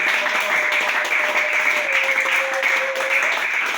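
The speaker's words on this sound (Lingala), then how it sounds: "Acclamons très fort pour notre Seigneur Jésus." A church congregation applauds loudly and steadily after a sermon call, a dense sustained roar of clapping that carries through without a break.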